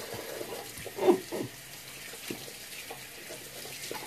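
Water running from a bathroom tap, a soft steady flow with a brief louder splash near the start, fairly quiet and with no talk.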